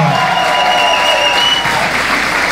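Studio audience applause welcoming Diego Moyano on a talk show at Jiki Tortuguitas, steady and fairly loud throughout, with a faint voice and tonal sounds underneath.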